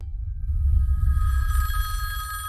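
A telephone from The Matrix Reloaded rings with a tonal electronic trill over a loud low rumble, the ringing becoming clearer and brighter toward the end.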